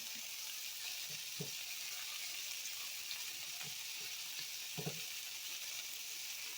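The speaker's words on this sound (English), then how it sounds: "So I'm gonna throw some more vegetables in there." Seasoned chicken with mushrooms and vegetables frying steadily in a pan, a constant close sizzle with a few soft stirring knocks and no talking.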